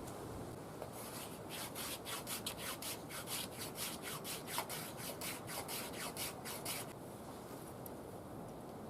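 A knife blade scraping along a wooden feather stick, a quiet run of regular rasping strokes, close up and alone, over a low steady background.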